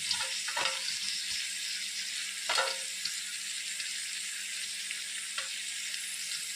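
Boiled mixed vegetables for a paneer curry hit a hot pan and sizzle steadily, with a few sharp clacks of a utensil against the pan breaking through the hiss, close and without voices.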